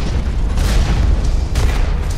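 A mech fires in the Hawken video game and a loud explosion follows, a heavy low rumbling blast that swells twice over about two seconds, with no voices.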